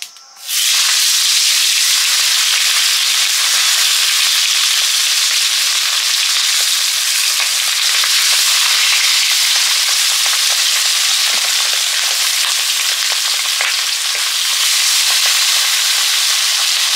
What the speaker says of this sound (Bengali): তেল দিলাম মাছ ভাজার জন্য।